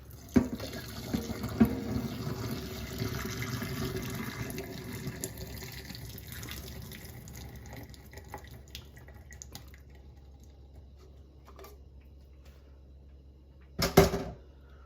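Cooked potatoes drained in a sink, water pouring out in a steady splashing stream that gradually thins to trickles and drips, then a brief sharp clatter near the end; no talk.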